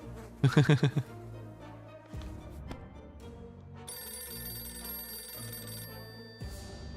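Telephone ringing in the video game 60 Seconds! Reatomized, a short burst of rapid metallic bell trills near the start, followed by game music and sustained high tones.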